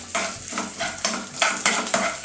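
Urad dal, dried red chilies and curry leaves sizzle in hot oil for a chutney tempering, with a loud, close crackle and rhythmic bursts of spoon stirring against the pan.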